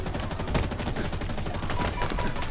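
Dense, continuous gunfire from the shooter game Halo Infinite, rapid overlapping bullet bursts sustained at steady loudness for the whole stretch with no pause.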